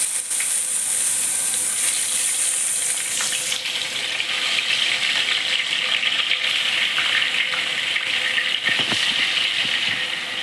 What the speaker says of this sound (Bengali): এখন আমি মাছগুলোকে এক এক করে ভেজে নিচ্ছি।